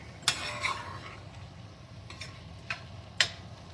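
A spatula scrapes the bottom of a pan during a shrimp stir fry, giving four or five short, sharp metallic scrapes and clicks spaced irregularly over a quiet, low background hiss.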